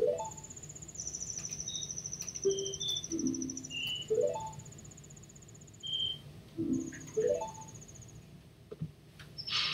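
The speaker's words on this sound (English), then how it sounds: "They're loud crickets when this is, you know, like a frozen below zero hellhole." Loud crickets in the video game Zelda: Majora's Mask give a steady high-pitched chirping drone, with repeating rising chime-like game tones and scattered electronic blips. There is no talking.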